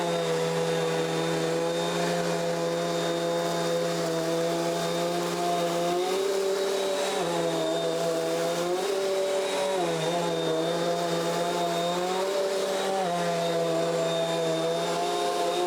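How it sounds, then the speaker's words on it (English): A Bissell Cleanview Compact vacuum cleaner runs loud and steady while sucking up oatmeal from a floor, its motor pitch dipping briefly several times as it takes in debris, with no talking. "So we're gonna try the same test on oatmeal."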